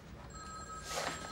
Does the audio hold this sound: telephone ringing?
yes